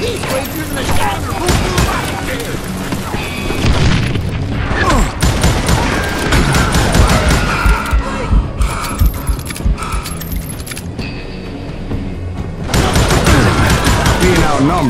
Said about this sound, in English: Who's shooting at you? We're under fire!